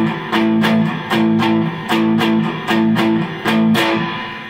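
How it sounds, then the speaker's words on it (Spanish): Electric guitar playing a blues riff built on a fifth, with a steady repeated pattern of about five strummed phrases, loud and close, with no talking. "Y esto yo lo puedo convertir en un riff de blues"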